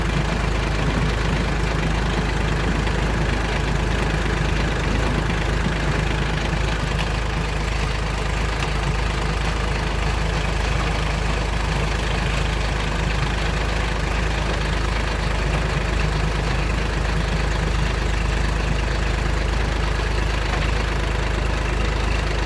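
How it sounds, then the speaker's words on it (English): A Kubota tractor fitted with a front-mounted box blade idles steadily for the whole stretch, a loud, even engine rumble with a low knocking throb and no voices. "this is a box blade on the front of the tractor"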